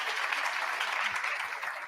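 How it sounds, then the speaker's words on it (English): An audience at a Vivekananda summit conference applauds briefly, a soft, even wash of clapping from a seated crowd heard at a distance. "Can we hear a huge round of applause?"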